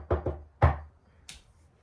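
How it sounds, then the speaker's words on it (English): Loud knocks on a door, two quick raps and then a heavier thump, followed by a fainter single knock a moment later, close and with no voices. "There was a loud knock."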